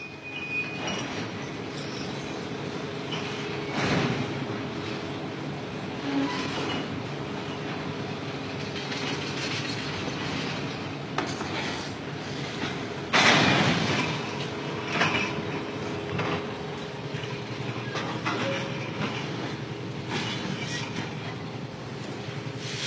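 Freight train wagons roll along rails in a continuous, steady rumble, with a few louder clanks and swells of wheel noise along the way and no voices.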